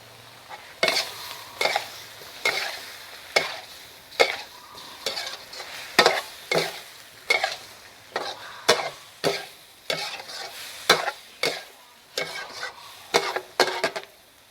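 Squid stir-frying in red curry paste in a hot wok, with a steady sizzle under regular scraping strokes of a spatula, about one stroke a second, close and clear, with no talking.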